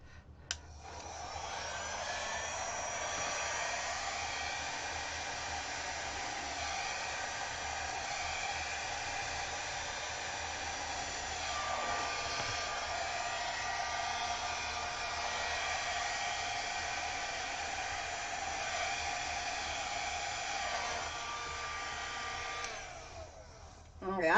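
A hair dryer blows steadily on wet acrylic pour paint for about twenty-four seconds, its close, even whooshing roar barely changing in pitch or loudness from start to finish.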